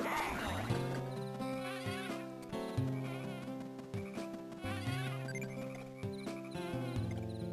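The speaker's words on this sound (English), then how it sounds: "you bees are really getting annoying" Bees buzz in the Wario Land 4 video game, a continuous insect-like drone layered over busy, tuneful game music that carries on without a break.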